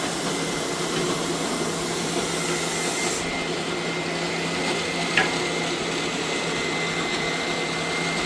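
A mixer grinder runs in a home kitchen, giving a loud, steady whirring drone that holds evenly from start to finish with no pauses.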